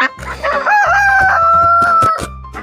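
A rooster crows loudly and close in a farm animal song, one long drawn-out call with a rising then level pitch, lasting about two seconds.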